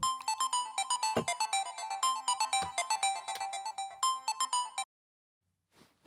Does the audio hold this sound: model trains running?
no